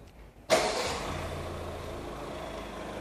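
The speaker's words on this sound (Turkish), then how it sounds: "Çalıştırın aracı." A Ford Kuga's engine starts with a sudden loud crank and catch after a quiet moment, then settles into a steady, close idle hum.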